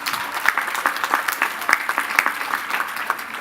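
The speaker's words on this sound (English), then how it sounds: "Give them applause." Audience at a 2018 Lehman College commencement ceremony applauds the graduating class, steady dense clapping with sharp individual claps standing out, moderately loud and continuous throughout.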